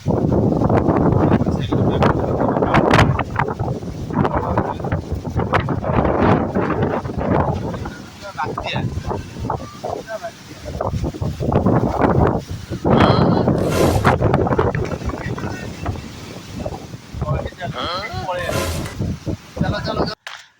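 Strong gusting wind of a Kalbaishakhi evening storm in Cuttack buffets the microphone with loud, roaring rushes and brief lulls, rain mixed in, while someone talks over it.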